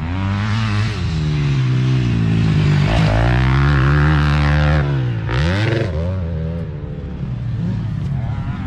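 A KTM dirt bike carves around a frozen track, its engine loud and close with a droning, wavering tone that dips and rises as the throttle is rolled off and back on mid-turn.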